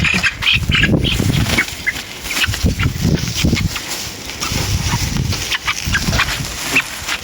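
Young light-breed chickens, about two months old, flap their wings in bursts close by, with soft clucks and rustling in a coop.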